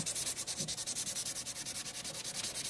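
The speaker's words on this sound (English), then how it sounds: "But you can also go in with some sandpaper by hand." A metal cuff is hand-sanded with sandpaper in a fast, even back-and-forth rhythm of close, bright rasping strokes, with no voices.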